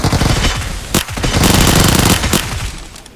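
Rapid automatic gunfire in a first-person shooter video game: a loud, dense rattle of shots breaks briefly, then resumes as a sustained burst before trailing off.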